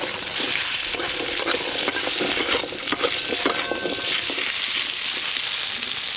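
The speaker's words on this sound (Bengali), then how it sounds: "সর্ষের তেল, কেটে ধুয়ে রাখা কচু প্রথমে ভেজে নেব।" Taro pieces frying in mustard oil with turmeric and salt, a steady loud sizzle with occasional scraping and stirring of a spatula against the pan, close and continuous.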